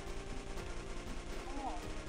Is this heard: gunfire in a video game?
yes